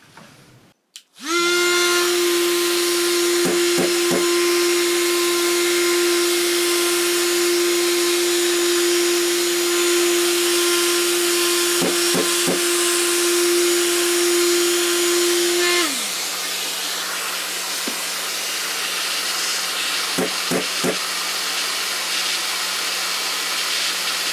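A Festool RTS 400 REQ orbital sander runs with a Hoover vacuum extracting its dust, giving a loud, steady motor whine and rushing airflow that switches on sharply, drops in pitch near the end, and leaves the vacuum hissing, with occasional clicks.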